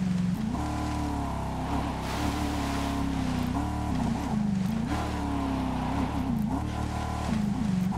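A dune buggy engine in the Ghost Recon Breakpoint video game drives off road, its steady loud drone rising and falling in pitch as the throttle shifts, running continuously throughout.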